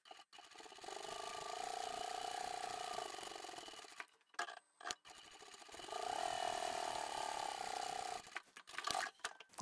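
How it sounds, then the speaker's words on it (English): A sewing machine top-stitching the edges of a cutlery roll-up pouch at a longer stitch length: two sustained runs of close, humming stitching, split by a pause with small clicks and handling noise, with short clatters at the end. "For the top stitching, I've increased my stitch length back to 3"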